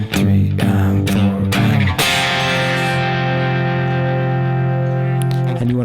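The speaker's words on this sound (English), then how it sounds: "right before they go into the chorus, they're going to hold that chord" Distorted electric guitar strums a few sharp chords, then holds one chord ringing out and slowly fading before the chorus.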